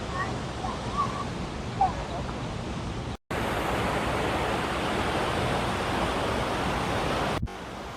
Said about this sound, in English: Let's go to the waterfalls now.